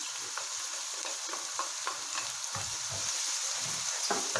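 Chopped white parts of spring onions sizzle and fry in a hot pan for a vegetable fried rice style biryani, a steady soft crackle with occasional stirring scrapes, fairly quiet.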